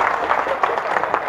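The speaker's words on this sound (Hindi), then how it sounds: "तालियां बजाओ साहब एक बार जोरदार मिलके।" An audience clapping during a live Hindi comedy show, a dense, lively patter of hands throughout the short stretch.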